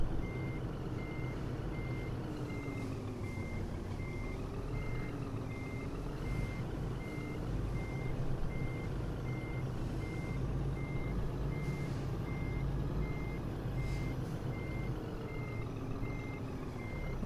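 Steady, evenly spaced reversing beeps repeat over the low rumble of a Scania truck backing a trailer in a truck-driving simulator game, continuing throughout at an even level.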